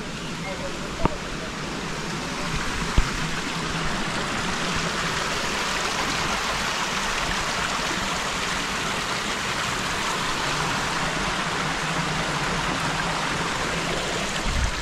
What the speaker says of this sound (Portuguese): Riozinho, riacho.